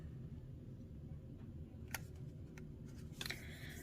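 Quiet, sharp snips of scissors cutting paper, a few scattered cuts toward the end over a low background hum.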